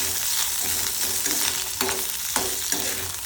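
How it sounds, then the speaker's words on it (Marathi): Garlic and green chillies sauté in hot oil with a continuous close sizzle, punctuated by several scraping stirs and light spatula taps against the pan. "आता लसूण आणि मिरच्या दोन्ही पण परतून घ्यायचे छान पैकी"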